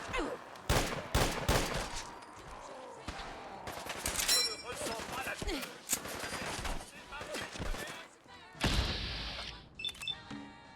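Enemy gunfire in the video game Fallout 4 comes as rapid bursts of loud crackling shots and sustained automatic fire, broken by short pauses, with a player talking over parts of it.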